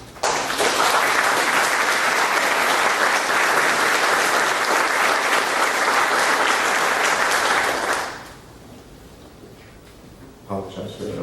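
Sustained audience applause fills a hall for about eight seconds, loud and steady, then drops away to a quiet room with faint shuffling.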